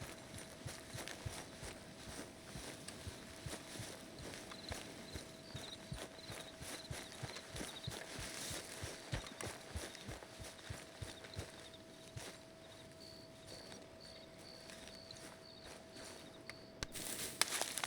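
A horse in Red Dead Redemption 2 walks with steady, even hoof clip-clops on the ground, close and continuous under faint ambient sound.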